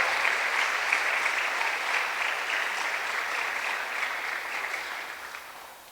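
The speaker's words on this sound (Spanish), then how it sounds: "den un fuerte aplauso a Cristo" A church congregation applauds loudly at a worship service, a dense sustained wash of clapping that holds steady and slowly tapers off.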